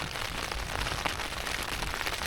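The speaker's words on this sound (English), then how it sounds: "and then the rain started" Steady, dense rain patters on a Hilleberg Soulo tent pitched at the beach, a constant close hiss of drops with no voices.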